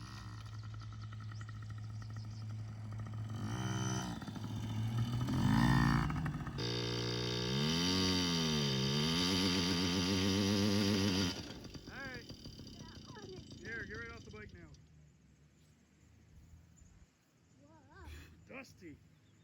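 A small Yamaha PW50 dirt bike and a 110 four-wheeler ride around a backyard track, their little engines buzzing and revving up and down close by, with someone talking over them.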